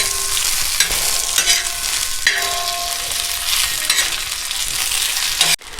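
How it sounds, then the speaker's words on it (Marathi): Green chili thecha mixture stir-fried in oil on a pan, with a loud steady sizzle and repeated scraping strokes of a spatula, close up and alone. "आपण तेल टाकून आपला ठेस्याचा सर्व मिक्सर हे थोडंसं परतून घेतलं आहे"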